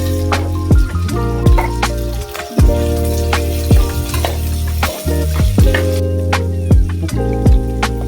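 Beans, carrot and cauliflower fry in a pan with a loud, steady sizzle, broken by repeated scraping and stirring strokes and clanks of a spoon against the pan, with no talking.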